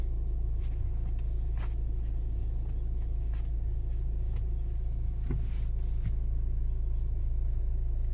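A 2014 Peugeot 308 1.6 HDi diesel engine idles steadily and quietly, a low constant rumble with no other sounds over it.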